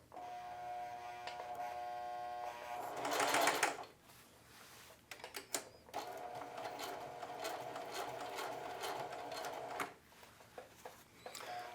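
Sewing machine running a long stitch on denim jeans: a steady close-up mechanical whir with a louder surge early on, then a rhythmic clattering run punctuated by clicks.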